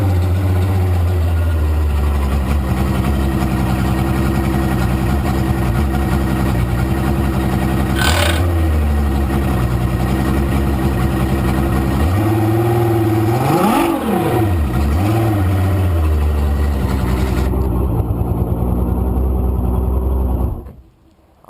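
A 2013 Mercury outboard engine on a Nitro Z8 boat runs steadily and loud, with a couple of brief revs rising and falling partway through before it cuts off at the end.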